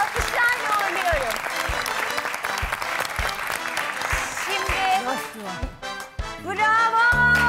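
Rhythmic clapping in time with loud, upbeat music on a televised cooking-show set during a couple's wedding celebration. Sharp, evenly spaced claps run under the song throughout, with voices rising near the end.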